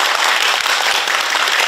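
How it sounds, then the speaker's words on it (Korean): Dense applause from a forum audience in Cheonan fills the short stretch, a loud, even roar of many hands clapping with no break. "여러분 다시 한번 큰 박수 부탁드리겠습니다"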